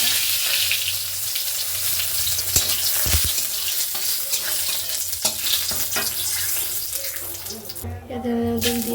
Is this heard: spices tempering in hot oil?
yes